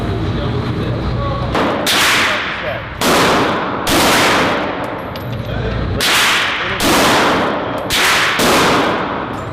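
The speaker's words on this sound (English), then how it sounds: "An hour and a half of shooting guns" A handgun fires a string of loud, sharp shots about every one to two seconds, each one ringing out briefly at close range, with people talking between the shots.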